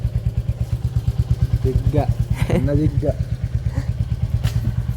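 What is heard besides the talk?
motorcycle engine running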